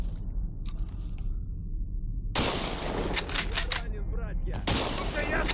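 Armor-piercing gunfire in STALKER Anomaly: loud, dense bursts of shots cutting in sharply partway through, repeated cracks over a rumbling game soundscape, with a voice speaking underneath.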